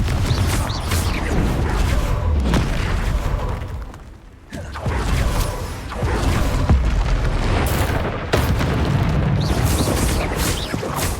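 Confringo blasting spells explode in a Hogwarts Legacy battle, producing loud, continuous booms and crackling bursts that roll one into the next with a brief lull midway.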